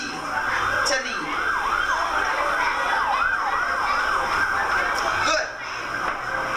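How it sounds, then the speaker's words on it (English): An ambulance siren wails nearby in a rapid, repeating up-and-down yelp, loud and steady for several seconds with faint background noise and brief dips in level. "What is making that noise? The ambulance."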